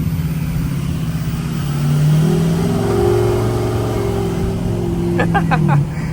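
A truck with worn-out sway bar end links revving as it drives, a steady mid-pitched engine drone that swells briefly then eases, heard from inside the cab with a few short high tones near the end.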